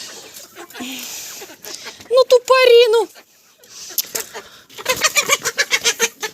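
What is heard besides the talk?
chickens clucking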